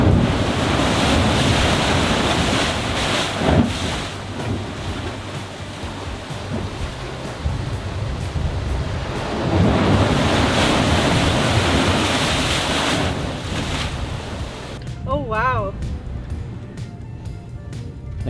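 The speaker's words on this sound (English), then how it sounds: "So when the waves come in and shoot up the blowhole" Ocean swells surge against a rocky blowhole on Waderick Wells in the Bahamas, a loud roaring wash of surf and spray mixed with gusting wind noise, swelling and receding in waves, with a brief faint voice near the end.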